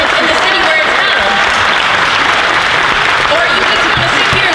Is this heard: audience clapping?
yes